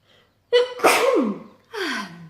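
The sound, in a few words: sneeze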